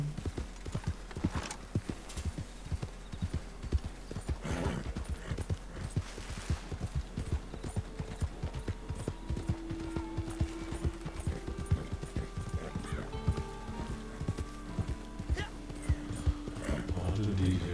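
A herd of horses in a Wild West game clip-clops steadily in dense, overlapping hoofbeats, with occasional whinnies, while voices talk over it.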